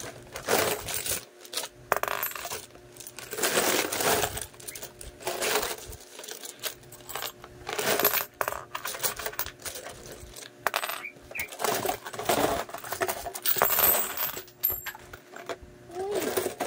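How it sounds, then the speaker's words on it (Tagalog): Piles of coins pour out and are sorted and counted by hand, a busy, irregular metallic clinking and rattling in close bursts with short pauses between, heard without talk. "didiskartihan ng pagbilang ng barya"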